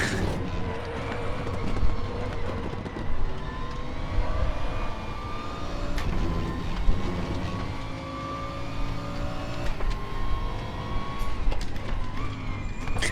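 P4 Competizione race car with a Ferrari engine in the RaceRoom racing game, its high-pitched engine wailing and shifting through gears in a continuous loud run on the Sepang track.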